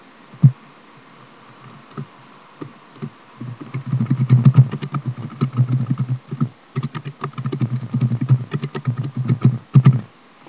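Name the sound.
computer keyboard typing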